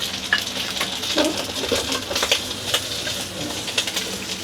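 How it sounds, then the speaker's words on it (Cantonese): Fresh corn kernels sizzle and crackle in hot oil in a wok over high heat, with scattered sharp pops over a continuous frying hiss. "咁我哋煎一煎佢啊"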